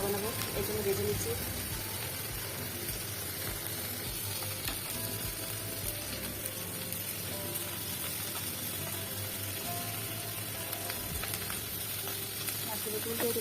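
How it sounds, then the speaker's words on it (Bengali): Shidol shutki dried fish and red chillies frying in a pan for bharta: an even, continuous hiss of oil with a steamy edge and faint crackle, steady from start to finish. "শুটকি দিয়ে দিয়েছি, এগুলো ভেজে নিচ্ছি ভর্তা বানানোর জন্য।"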